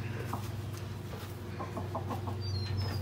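A chicken that has escaped its pen clucks in a series of short repeated calls over steady outdoor background noise, with other fowl faintly around.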